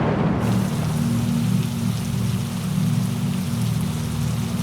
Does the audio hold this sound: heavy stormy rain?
yes